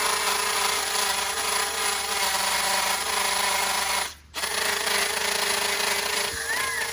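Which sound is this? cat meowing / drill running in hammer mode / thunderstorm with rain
drill running in hammer mode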